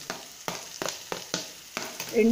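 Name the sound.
mashed garlic frying in a pan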